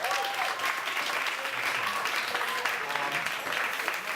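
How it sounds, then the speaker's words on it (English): An audience applauds performers, steady dense clapping heard from within the crowd throughout, moderately loud and continuous. "a big round of applause for everybody"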